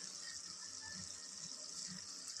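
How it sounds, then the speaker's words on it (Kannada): Water poured into ground biryani masala paste of ginger-garlic, green chilli and coriander, a brief, faint, continuous trickling splash heard on its own. "ಇದಕ್ಕೆ ಇನ್ನೊಂದು ಸ್ವಲ್ಪ ನೀರು ಹಾಕ್ಬಿಟ್ಟು"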